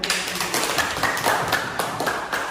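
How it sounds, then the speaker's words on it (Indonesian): Classroom audience of students clapping for three presenting groups during a school project lesson; a dense, steady patter of many hands that stays fairly even in level for the whole stretch. "Mari kita kasih tepuk tangan"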